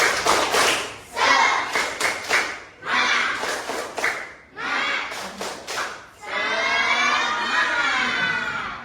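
A group of children claps in quick rhythmic bursts in a classroom clapping chant, pausing between rounds, then breaks into sustained loud cheering and shouting.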